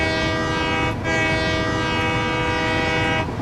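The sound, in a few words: train horn honk in a video game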